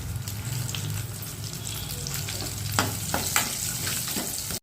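Whole spices and paste frying in hot oil for an egg curry, a steady close sizzle with crackling pops throughout, brief louder spatters near the end.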